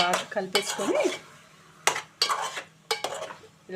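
A utensil stirs bottle gourd pieces in a metal pot, with repeated loud scraping and clanking bursts in uneven rhythm over a faint sizzle, close up and with no speech.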